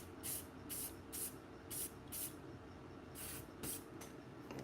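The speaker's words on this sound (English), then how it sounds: "For the matte coating, I'm just using this flat clear by Krylon." A can of Krylon flat clear matte aerosol coating being sprayed onto a painted sculpted portrait bust, in a series of short, close hissing bursts with brief pauses between them.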